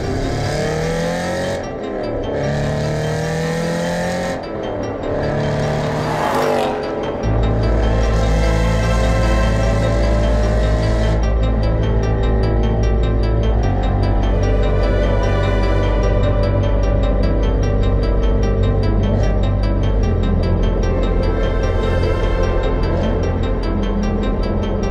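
Aston Martin Vantage GT8 driven on the road, loud engine revving up through gears with pitch rising and dropping at each shift, then a sustained steady roar at speed.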